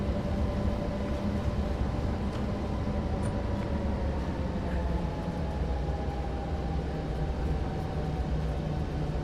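A Clinchfield EMD F7 diesel locomotive hauls a heavy coal freight train in a steady, loud drone of engine rumble and rolling wheels, with a faint whine that stays constant throughout.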